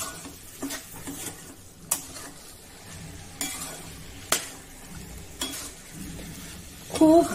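Green pigeon peas and eggplant being stirred with spices in a hot pan: a constant close sizzle broken by about half a dozen sharp spatula scrapes and taps at irregular intervals.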